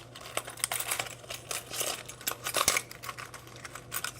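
Small household objects such as keys, used as weights for a homemade camera stabilizer, dropped into a container, making a close run of scattered metallic clinks and clatters with no talk.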